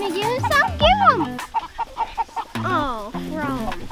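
Chickens cluck and squawk excitedly up close while being handed treats, with bursts of rising calls and short clucks, mixed with a person speaking.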